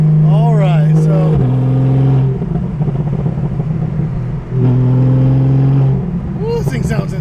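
Straight-piped Porsche 911 with a 3.8L engine revving hard, two rising pulls with a brief lift between, loud and close from inside, with a voice briefly reacting over it.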